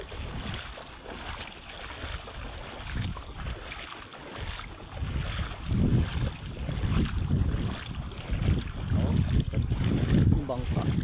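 Rumbling engine and sloshing water from a boat under way, with gusts of wind buffeting the microphone and no talking.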